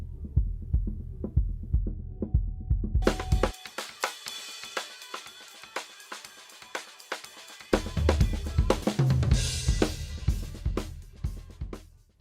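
A single band of a multiband compressor on a DiGiCo S-series console, soloed during a mix, giving thumping low-end music pulses that drop out midway into a thin, brighter wash before the pounding bass returns.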